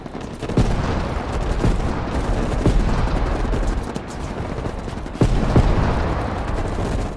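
Continuous heavy gunfire in Call of Duty: Black Ops Cold War crackles and rumbles throughout, with sharp individual shots and a burst of louder blasts near the end, dense and close.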